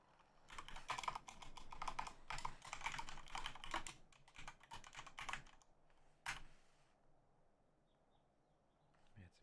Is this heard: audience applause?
no